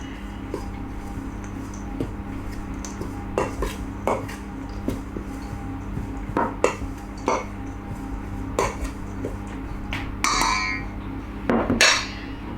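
Snipped bacon being mixed into a bowl with other ingredients for Brummie bacon cakes, heard as scattered clinks and scrapes of a utensil against the bowl, close and irregular over a steady kitchen hum.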